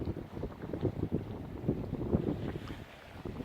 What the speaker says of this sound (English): See this boat coming in now, blasting it along the sound.